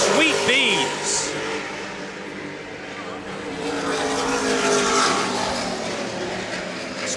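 A Skater racing powerboat driven by 1,100-horsepower Mercury engines roars past at a world championship offshore race in Key West, a loud, sustained engine drone that rises and falls under a commentator's voice.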